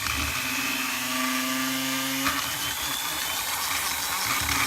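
Power tool bit grinding into a wood fish sculpture, a loud continuous high whine with a pitch shift midway as it bites and smooths the carved wood.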